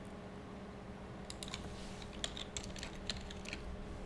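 Quiet computer keyboard typing, a light irregular patter of key clicks that starts sparse and quickens into short bursts, heard close up over a faint steady background hum with no talking.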